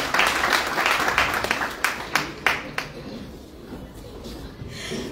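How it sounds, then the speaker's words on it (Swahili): A church audience applauds in a broad, continuous wash of clapping, loudest at the start with several sharper bursts, then thinning toward the end; crowd murmur runs beneath. "Tupigie tena makofi."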